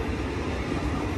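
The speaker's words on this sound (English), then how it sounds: "Train's making pretty good time." A loaded freight train passes at Cajon Pass with a dense, steady roar of wheels and rolling cars, close and loud.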